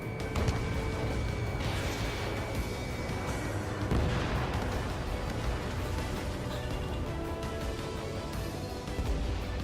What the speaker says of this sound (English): Locked on target. Missile hit.